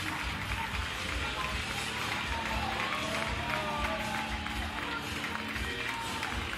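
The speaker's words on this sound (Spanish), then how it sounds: "El público aplaude" An audience at a deathmatch wrestling show applauds and cheers, a steady, dense wash of clapping and crowd noise heard at a distance, without clear individual claps.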